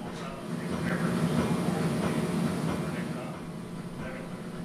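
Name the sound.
Caltrain diesel train departing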